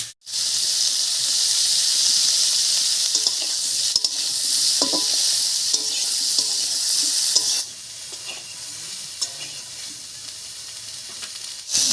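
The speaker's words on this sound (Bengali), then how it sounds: "ফুলকপিটা ভাজা হয়ে গেছে নামিয়ে নিচ্ছি" Cauliflower pieces fry with a little turmeric in an oiled wok, giving a loud, steady sizzle and hiss throughout, with scattered clicks and scrapes from stirring and a slight drop in intensity toward the end.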